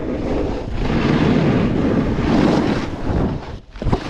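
Strong wind buffeting the microphone outdoors near water while surfboarding: a loud, continuous low roar that swells and dips for about four seconds, with no talk.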